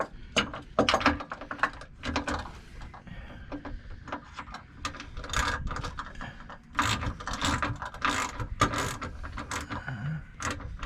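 Hand ratchet clicking steadily while loosening bolts on a Jeep Gladiator Mojave, close and loud, in repeated bursts of rapid pawl clicks with short pauses between turns outdoors.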